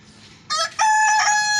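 A rooster among free-roaming chickens and pigeons crows loudly at close range, a bright, harmonic call that starts abruptly and holds strong to the end.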